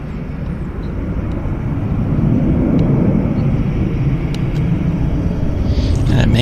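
A United airliner takes off from the south side of Vancouver Airport, a loud, steady jet roar that swells and rumbles continuously throughout as it climbs away.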